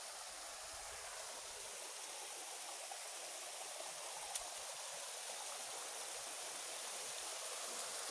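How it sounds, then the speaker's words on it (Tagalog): Steady rushing of a stream near Kawa Falls in Antipolo, a continuous broadband water wash that stays even and close throughout with no voices. "Pupunta natin yung pinaka Mother Falls. Ang Kawa Falls."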